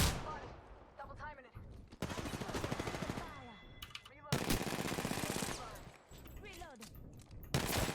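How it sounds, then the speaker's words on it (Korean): Rapid gunfire in a first-person shooter video game, with dense bursts of automatic fire and single shots repeating across the whole stretch, fairly loud, with voices talking now and then. "위쪽 방향에서 총알 날라오던데"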